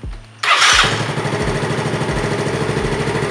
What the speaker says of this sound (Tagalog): Start na natin yung motor.